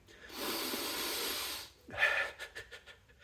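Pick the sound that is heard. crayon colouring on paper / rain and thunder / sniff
sniff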